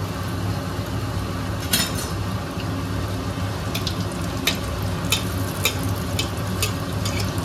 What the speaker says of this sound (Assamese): এটাকৈ আজি ফ্ৰাই কৰিম একদম তেল গৰম হৈ আছিলে এইটো দি দিলোঁ